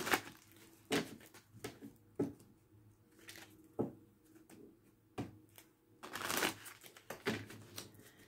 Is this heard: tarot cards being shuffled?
yes